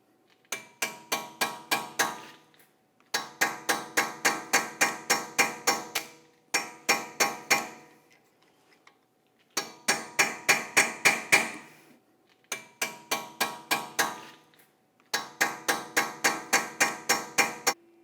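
A hammer drives a chisel against a wheel hub mounting bolt on a 2015–2024 Jeep Renegade, sharp metallic strikes in quick rhythmic bursts of about eight to ten blows, separated by brief pauses.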